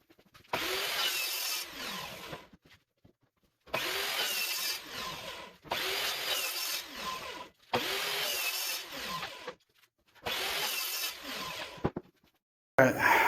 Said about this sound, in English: we'll go ahead and cut those on the miter saw